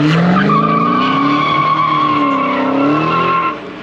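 Dodge SRT Hellcat Charger or Challenger drifting at a driving experience event, tires squealing loudly in a long wavering screech over a roaring engine, close by and fading slightly at the end, with no talking.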